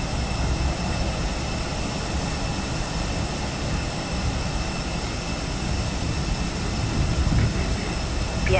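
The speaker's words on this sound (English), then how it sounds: "Vietnam Airlines 220 ready to taxi." Airliner jet engines idle and rumble steadily while taxiing in Microsoft Flight Simulator 2020, a continuous broadband roar with a faint high whine held at an even level throughout, no voices present.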